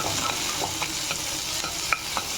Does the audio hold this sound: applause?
no